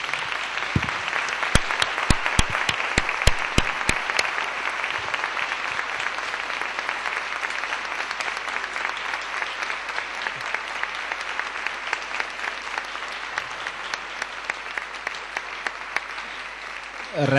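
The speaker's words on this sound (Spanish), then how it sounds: "darles un fuerte aplauso a las dos" An audience at an Asperger association question-and-answer event gives sustained applause, a dense patter of claps with sharper individual hand claps close by, fairly even and moderately loud throughout.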